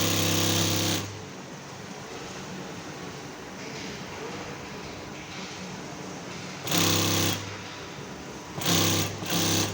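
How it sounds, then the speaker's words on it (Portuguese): A sewing machine stitching fabric for a two-seat backrest gives short, loud, close bursts of rapid whirring, with one near the start and two near the end, separated by quieter stretches of handling noise. "na hora da costura, a máquina ela distribui a peça"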